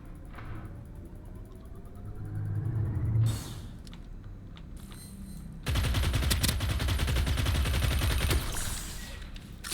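Pulse-round gunfire from the game Starsiege Deadzone: bursts of rapid shots with mechanical rumble, a short loud volley early, then a sustained dense stretch of firing through the second half.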